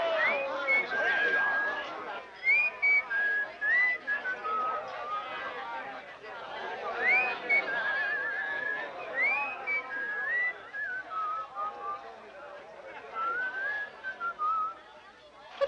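Someone whistles a lilting tune in clear, sliding phrases, with a busy murmur of voices and movement in the background throughout.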